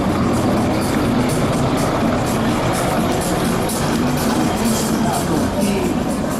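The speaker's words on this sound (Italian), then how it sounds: "È davvero impressionante vedere volare un elicottero con questi assetti particolari." An HH-101 helicopter flies at the Jesolo Air Show, producing a loud, constant roar of engine and rotor with a faint rhythmic beating over the whole stretch.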